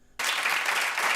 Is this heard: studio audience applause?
yes